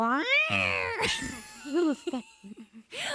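A human voice imitates a screaming cat with drawn-out, wavering, rising and falling wails, loud and close, in a few broken bursts.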